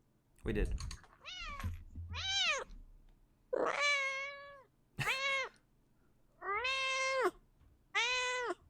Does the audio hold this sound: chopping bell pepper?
no